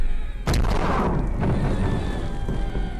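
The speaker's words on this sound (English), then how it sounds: "Put two ballistas behind. They fire not in straight line." Ballistas fire in Totally Accurate Battle Simulator, giving one sharp heavy boom that decays into a rumbling tail, followed by a fainter second thump.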